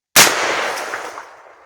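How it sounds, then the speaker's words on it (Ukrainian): A single sharp gunshot from a Safary HG-105 anti-drone shotgun cracks loudly, followed by a short decaying echo. "Ну, виконую постріл."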